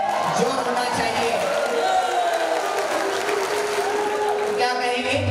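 Dense applause and cheering from a crowd at a live Khatu Shyam bhajan gathering, steady and loud throughout with a few whoops rising from the audience.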